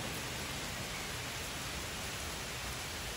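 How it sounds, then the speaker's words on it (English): Rain falling steadily in the woods, a dense even hiss of drops on leaves and ground with no other sounds breaking through. "I love the sound of rain in the woods."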